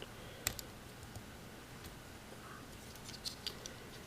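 Plastic Transformers Generations Twintwist toy being transformed, its parts rotated and folded: a few sharp, close clicks and small plastic snaps, scattered and irregular, over a quiet background.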